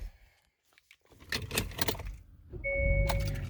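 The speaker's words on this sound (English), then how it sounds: "now let's get inside and start the vehicle and see how she is" A 2021 Hyundai Sonata SE starts up: a jangle of keys and shuffling inside the car, then the starter's brief whir and the engine catching into a steady idle hum, heard up close.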